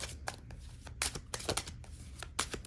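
A deck of cards being shuffled during a tarot-style reading, with several quick riffling bursts and soft card slaps close by, no voices.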